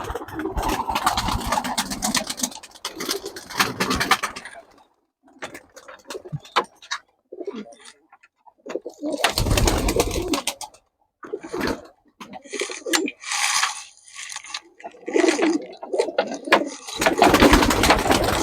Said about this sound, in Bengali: তো সব পায়রা এখন ছেড়ে দেখাবো